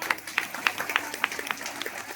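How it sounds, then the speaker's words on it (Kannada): Applause for a singer at a village goddess fair stage, a scattered crowd clapping steadily at moderate distance, lively but not thunderous, carrying on for a couple of seconds. "ನನ್ನ ವತಿಯಿಂದ ಒಂದು ದೊಡ್ಡ ಚಪ್ಪಾಳೆ."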